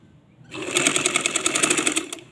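Sewing machine stitching the shoulder seam of a baby frock, a steady fast mechanical whir with a rapid needle rhythm that starts after a short pause and runs close and clear.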